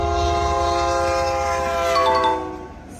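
In New Mexico, a loud, sustained train horn blares over the rumble of a passing train, then fades as the horn cuts off near the end.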